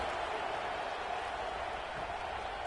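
Crowd noise from a stadium in a football video game, a steady wash of applause and cheering that holds at an even level throughout with no breaks.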